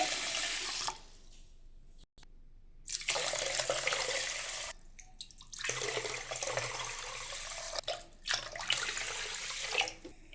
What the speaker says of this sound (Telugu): ఇది ఇప్పుడు 2-3 టైమ్స్ మంచిగా వాష్ చేసి చూపిస్తాను.